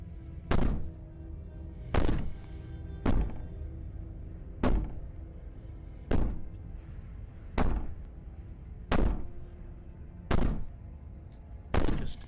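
Heavy banging from the Slay the Princess game, a regular series of loud booming thuds, roughly one every one to one and a half seconds, ringing out over a low rumbling background, with no voices.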